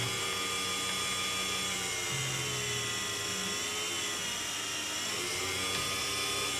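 A lathe drives a center drill into a workpiece with a pecking motion, giving a steady high-pitched machining whine over a constant motor drone, with no talking.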